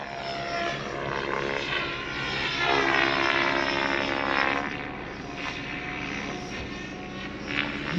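A helicopter drones steadily nearby, its engine whine and rotor chop rising and falling slightly over several seconds, with no voices.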